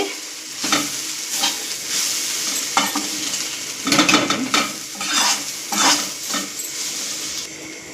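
Steady sizzling of a spice tempering frying in hot oil for broken-rice upma, with occasional stirring scrapes and clinks of a utensil against the pan, close and continuous.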